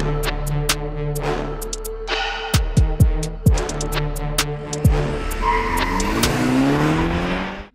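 Drag racing cars on a straight strip in Tiraspol rev hard, launch and accelerate past, with sharp engine bursts, rising whines, and tire squeal over a crowd-ambience rumble, loud and close.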